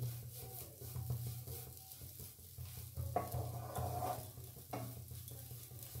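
Food fries gently over low heat in a covered frying pan, giving a faint, steady sizzle with occasional stirring and pan scrapes in a quiet kitchen.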